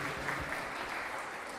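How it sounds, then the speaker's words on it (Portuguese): An audience at a law lecture claps steadily, a dense, even wash of applause filling the room from start to finish at moderate volume. "Salva de palmas"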